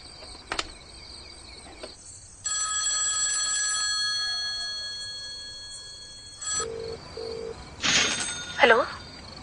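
A telephone rings with a sustained electronic trill for several seconds, then short beeps and chirping follow, all under quiet background noise.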